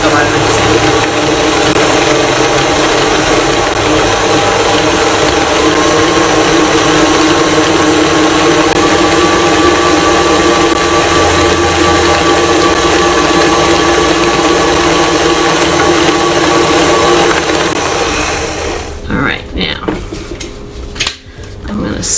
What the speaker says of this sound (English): it doesn't take a lot of mixing if your cream cheese was room temperature